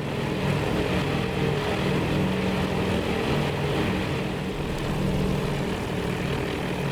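Carrier aircraft of a strike package fly over an enemy fleet in a naval combat strategy game, heard as a steady, continuous propeller-engine drone holding at an even level throughout, with no voices.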